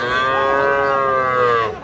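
Young bull calf at a cattle market giving one loud, drawn-out moo right up close, sustained for nearly two seconds before tailing off.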